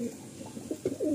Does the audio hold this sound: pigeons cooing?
yes